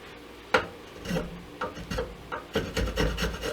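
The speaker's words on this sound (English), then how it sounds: "If you wonder why I'm planing down so much, I could have cut and just left a mil or something" A hand plane shaves down a wooden guitar fretboard in a series of close, rasping strokes, each a short scraping rush, coming faster toward the end.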